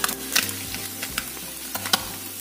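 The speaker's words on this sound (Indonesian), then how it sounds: "kita goreng yang selanjutnya." Pieces of salem mackerel fry in hot oil with a steady close sizzle, broken by a few soft clicks and scrapes of stirring.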